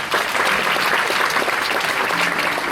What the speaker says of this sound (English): The young achievers deserve a huge applause.